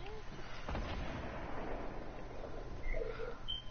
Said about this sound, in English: He just shot an RPG at you.